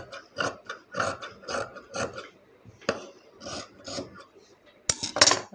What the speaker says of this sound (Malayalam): ഇതേ കുറച്ചങ്ങ് കട്ട് ചെയ്ത് കളയണം